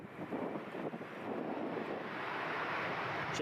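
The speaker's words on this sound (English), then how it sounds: "Gentle breeze, which you'll hear on that." A gentle breeze buffets an outdoor microphone at Edinburgh airport, making a steady broadband rush that swells slightly and stays even, with no talk over it.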